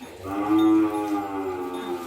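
Cattle at a pen in Thailand give one long, loud, close moo with a rich low drone that swells and slowly tapers off.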